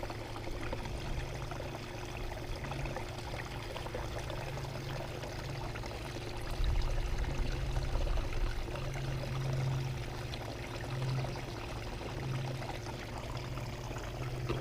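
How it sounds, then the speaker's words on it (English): Water pours and trickles steadily while gold dredge concentrates are panned, a continuous close liquid wash that swells louder midway, with a faint low hum underneath and no talking. "I think I'm gonna pan it instead of running it through the blue bowl"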